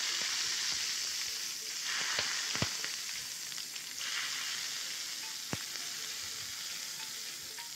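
Mustard seeds, urad dal and chana dal crackle in hot oil as a tempering, a dense steady hiss with occasional sharp pops and stirring scrapes, fairly quiet throughout.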